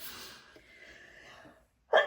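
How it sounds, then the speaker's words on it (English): A person sneezes once, a short sharp burst near the end after a few seconds of faint breathing and quiet. "You guys, I have to sneeze."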